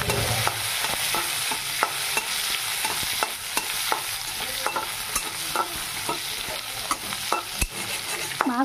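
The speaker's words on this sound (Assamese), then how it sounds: "পিঁয়াজখিনি অকণমান ভাজিম।" Onions fry in a pan alongside fish as a spatula stirs them, a steady close sizzle broken by frequent sharp scrapes and taps against the pan, with no talking.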